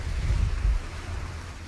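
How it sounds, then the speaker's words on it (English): Ocean waves at Langkawi, Malaysia, wash in as a low, soft surf rumble mixed with wind buffeting the microphone, with no voices over it. "The sound of the waves is just so relaxing."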